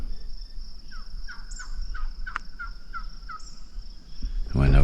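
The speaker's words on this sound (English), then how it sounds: "don't know if you can hear it, but just the birds." Birds calling along a roadside in rural Nebraska during a cross-country bicycle ride: repeated chirps and a sustained high trill over steady wind and road rumble, with a vehicle swelling up close at the end.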